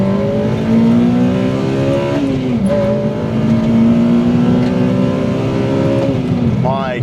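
Honda Civic Type R FD2 with a 2-litre inline-four revving hard toward 9,000 RPM, a loud, sustained rising engine wail with harmonic sweeps as the gears climb, heard close from inside the car.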